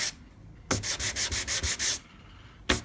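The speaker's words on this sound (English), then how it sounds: "as soon as I hit that with the sanding block, it'll basically disappear." A sanding block rubs across the wooden fretboard of a 1993 Fender Stratocaster in a quick run of about eight even back-and-forth strokes, close and crisp, with a pause before another stroke begins.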